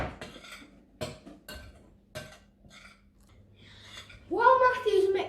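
Cocoa powder and flour stirred together in a bowl, a few sharp clinks and taps of a spoon against the bowl spaced apart, followed by a voice speaking near the end.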